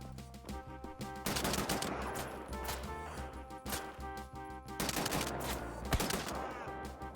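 Assault rifle gunfire from the Wolfenstein: The New Order video game comes in loud automatic bursts, two long sustained volleys separated by brief gaps with scattered single shots, no talking heard.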